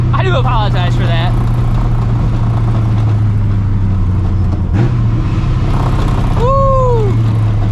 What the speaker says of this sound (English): Give you guys some downshifts and some clutch chatter.